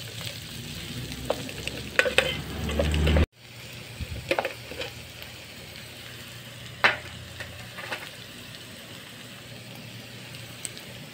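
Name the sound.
sautéing ginger and onion in a pan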